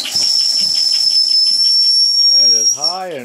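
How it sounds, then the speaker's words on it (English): A small antique toy model steam engine sounds a high, shrill, piercing whistle that holds steadily for about three seconds over a soft hiss of escaping steam, close and loud. "That is high and shrill and piercing."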